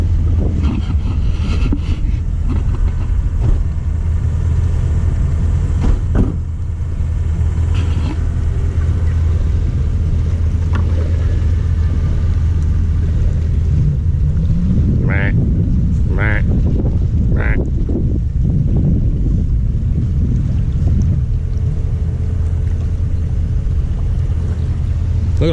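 A jet ski runs across open water with a steady loud engine drone and constant wind and water rumble, engine pitch rising in a few brief revs midway.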